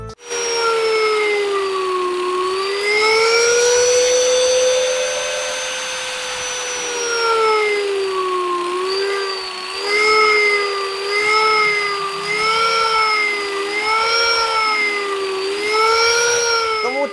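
Angle grinder whines steadily and fairly loud, its high motor pitch wavering up and down as load changes, running continuously with no talk over it.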